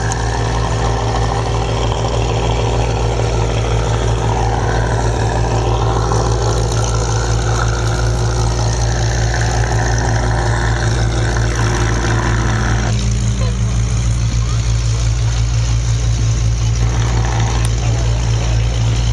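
Messerschmitt ME-109 with a Merlin engine, Spanish Air Force variant, taxiing at an airshow: a steady, loud, deep propeller-engine drone that holds throughout, with a shift in tone partway through.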